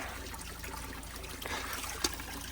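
Fresh water trickles from a spring tap on a mountain outing, a steady low, continuous wash of flowing water that stays even throughout, with one brief splash near the end.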